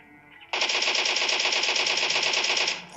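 Sustained automatic weapon fire in a shooter video game, a rapid unbroken burst that starts abruptly after a quieter moment and runs loud and steady for more than two seconds before cutting off.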